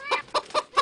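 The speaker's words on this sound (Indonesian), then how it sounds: "Ayam." A hen clucking as a PowerPoint animation sound effect: four short, evenly spaced clucks in quick succession, close and clear with no talk over them.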